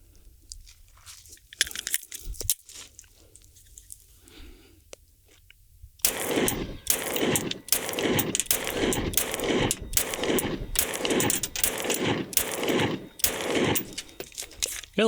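An H&K VP9CC compact pistol fires 115-grain ammunition at a range. After a quiet start, about nine or ten sharp, loud shots follow at a steady, quick pace.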